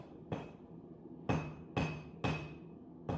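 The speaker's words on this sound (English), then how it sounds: "So now I'm forging in my point." Hammer blows forging a railroad spike point on an anvil, five sharp ringing strikes at an uneven pace, close and clear with no talking.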